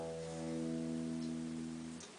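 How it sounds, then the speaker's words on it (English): A low E on the thick sixth string of an electric guitar rings out as a single sustained note, steady and clear, fading slightly near the end with no one talking. "the sixth string, the thickest one,"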